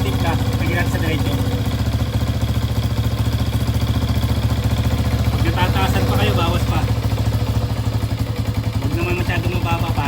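A Motorstar Star-X 125 motorcycle engine idles steadily during carburetor tuning, a close, even putter with slight rhythmic variation, while someone talks over it giving adjustment instructions.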